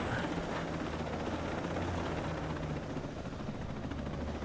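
Little Bird helicopter flying in Ghost Recon Breakpoint: a steady, loud rotor and engine drone with a fast rotor chop that holds evenly throughout, no voices on top.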